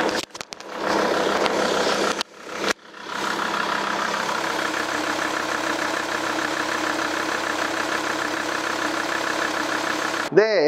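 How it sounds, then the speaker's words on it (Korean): A SsangYong Super Rexton RX6 4WD SUV diesel engine idles steadily with a low knocking rumble, close by, after a few door and handling thumps at the start. "엔진 소음도 확인해 보도록 하겠습니다."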